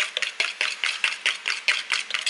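A milk, salt and pepper mixture being stirred in a dish with a utensil, giving quick, regular clinks and scrapes at a steady rhythm, close by and fairly quiet with no talk.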